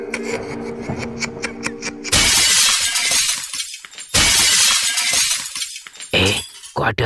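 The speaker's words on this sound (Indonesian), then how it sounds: "Seperti pecahan kaca atau gelas." Glass shattering in a horror audio drama: three loud, sudden crashes of breaking glass, each followed by scattering shards, with no talking.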